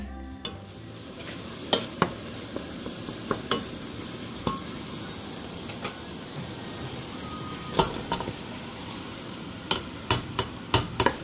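Vegetables stir-frying in a pan, a soft continuous sizzle broken by sharp clacks and scrapes of a utensil against the pan at irregular intervals, close and without talking.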